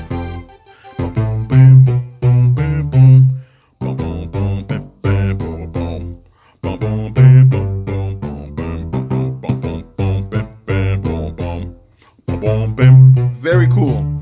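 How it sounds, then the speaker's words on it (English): Rubber Bandy stock bass from FL Studio driving a kompa beat, a rounded rubbery low line bouncing in short syncopated notes over steady percussion, loud and continuous with brief gaps. "And then this next one is the bass, and it's called Rubber Bandy. It's also a stock of FL Studio"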